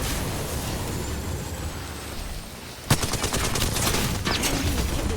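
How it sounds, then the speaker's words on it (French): Gunfire erupts in the Apex Legends video game: after a noisy rumbling stretch, a sharp shot starts a dense rapid volley of automatic fire that continues loudly to the end, without talk. "L'ennemi me tire dessus."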